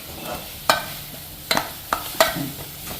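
Chicken sautéed with ginger in a frying pan: a soft background sizzle broken by several sharp metallic clinks of a spatula against the pan, irregularly spaced.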